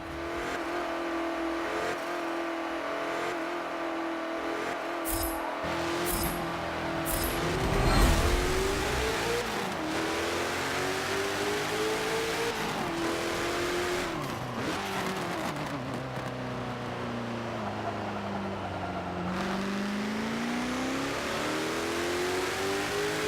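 A Lotus Elise GT1 race car in Forza Motorsport 7 revs its engine continuously, the pitch rising and falling through gear changes. There are brief tire squeals and skids, and no talk over it.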